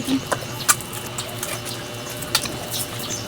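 A printer whirs and clicks steadily in a room, with a few sharper mechanical ticks over a low hum.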